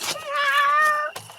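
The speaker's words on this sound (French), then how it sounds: "Oh, le petit chat de Caroline" A small cat gives one clear, close meow lasting about a second, followed by a brief softer sound.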